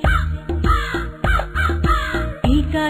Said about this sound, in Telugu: కాకి కాకి నాకు ఈకా ఇచ్చి